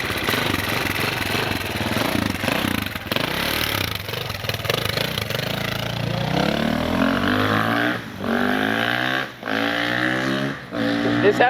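A motorcycle engine revs loudly close by as it is ridden off along a street, the pitch climbing and dropping through gear changes and fading slightly as it pulls away.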